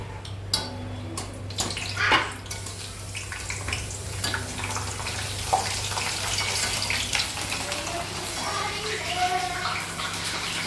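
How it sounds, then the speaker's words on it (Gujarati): Bhungla snacks frying in hot oil make a steady, bubbling hiss that crackles and spits irregularly, with a low background hum throughout. "અહીંયા આપણું તેલ ગરમ થઈ ગયું છે. ભૂંગળા નાખી દઈએ."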